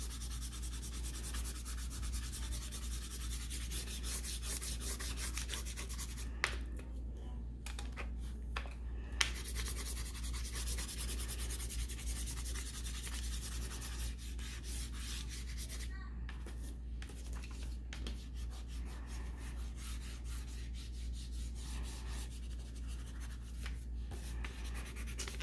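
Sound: coloring in the sky with a crayon on paper

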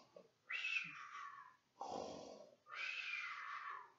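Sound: reader imitating a princess snoring

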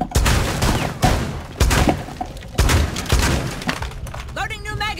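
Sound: gunfire shooting through a wall in the video game Rainbow Six Siege

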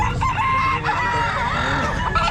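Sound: rooster crowing at a pet market

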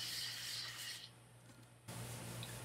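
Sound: sanding gesso coating on an art panel

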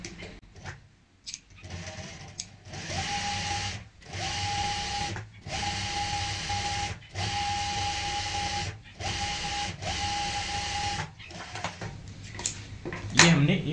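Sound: sewing machine stitching along cushion cover fold

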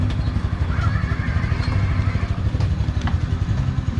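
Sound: motorcycle engine left running

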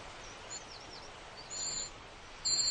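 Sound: young cuckoo chick's begging call mimicking warbler chicks

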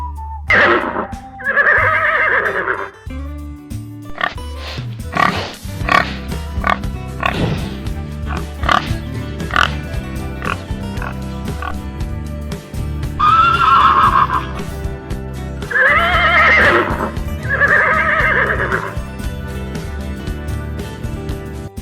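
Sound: horse neighing

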